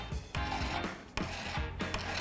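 A hand file is worked over metal to bring it to a flat edge, giving close scraping strokes in an uneven rhythm with short pauses between passes.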